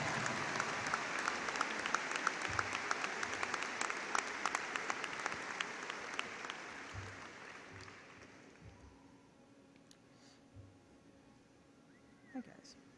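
Graduation audience at a 2012 high school ceremony applauding the class executive board as it is called to the stage, a dense crowd clapping for about eight seconds before fading to scattered claps and quiet room noise.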